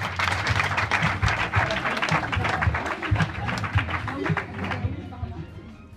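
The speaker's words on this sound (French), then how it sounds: "Des applaudissements s'il vous plaît." Applause rises from an audience at a student-union Oscars-style awards ceremony in Montpellier, steady dense clapping for several seconds with crowd voices mixed in, thinning slightly toward the end.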